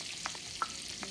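Butter with garlic sizzles in oil in a pan for shrimp scampi, a soft steady hiss marked by three quick spoon scrapes.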